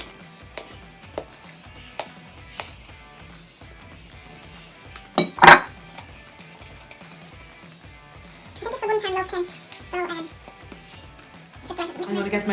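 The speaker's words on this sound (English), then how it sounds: "So you just basically fold this in with a spoon or spatula." A spoon folds chocolate chips into banana bread batter in a bowl, giving soft scraping and occasional clinks against the bowl, with one sharper clatter midway and some louder stirring later.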